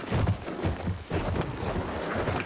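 Horse galloping in the video game Battlefield 1, with rapid rhythmic hoofbeats pounding close and loud throughout.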